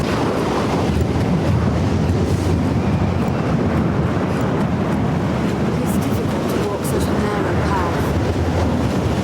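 Steady, broadband wind gusts through Windworn Valley in the game Dragon's Dogma: Dark Arisen, a constant rushing roar filling the whole stretch with faint talk beneath.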